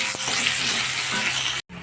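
Potatoes frying in deep oil with a little salt and turmeric, a dense close sizzle with soft stirring scrapes, cutting off abruptly near the end before resuming.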